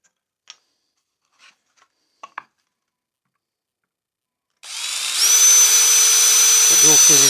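A few light handling clicks and taps sound in near silence, then a power drill bites into a scrap-timber board and whines steadily and loudly, close up, until the end.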